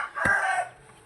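A chicken being fed gives a short raised squawking cluck, one brief call heard close and clear over a quiet background.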